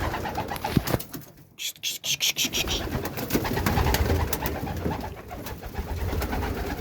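Homing pigeons coo and rustle close by in a busy loft, with soft flapping and shuffling among the birds and a low murmur of activity throughout.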